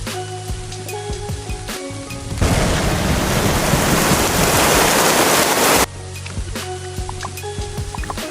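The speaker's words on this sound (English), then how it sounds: "it's raining really hard" Heavy rain from a rainstorm pours down as a dense, loud hiss for several seconds, framed by steadier engine-like hum with rattling patter before and after, as if heard from inside a car.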